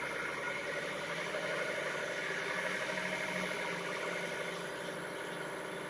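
Teak hollowform vase spinning on a wood lathe at about 700 RPM while being hollowed with a half-inch spindle gouge, giving a steady, continuous mechanical drone with a broad hiss, even in loudness throughout and with no talk.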